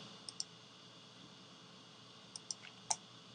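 Mouse clicks come as points are placed on a vector drawing, with two quick pairs of crisp, close clicks and then a single louder click over a quiet room hum.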